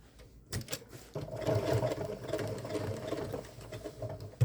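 A sewing machine stitches a decal onto clothing with a rapid, even mechanical chatter. It starts after a short pause and runs steadily up close for several seconds.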